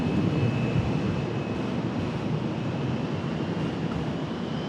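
A Delta airliner arriving at Charlotte airport, heard as a steady, broad engine roar with a faint high whine, constant and fairly close, with no talk.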